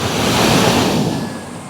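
Sea waves wash onto a beach in a loud, close surge that swells and slowly recedes, mixed with wind rumble and no voices.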